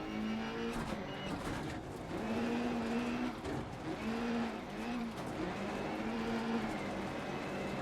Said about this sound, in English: Now we've got a good drift going on, got the rotation we need.